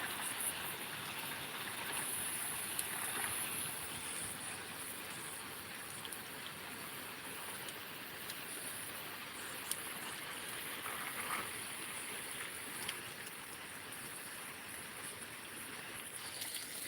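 A garden hose waters plants at a chilly dawn, giving a steady broadband spray and splash of water that runs continuously and fairly near, with no talking.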